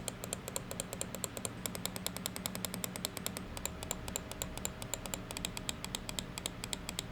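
A Zowie U2 gaming mouse gives rapid, crisp switch clicks in a quick, fairly regular series, close and clear against a quiet background.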